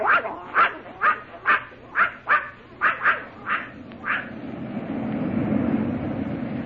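Puppy Corky barks about ten times in an even, quick rhythm, close and clear, then the yaps stop and a low rumbling murmur carries on underneath.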